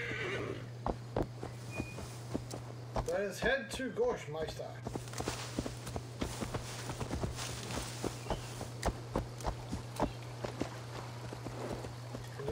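In Assassin's Creed Valhalla a horse whinnies loudly near the start, then its hooves clop in a steady walking rhythm over a low hum while someone talks.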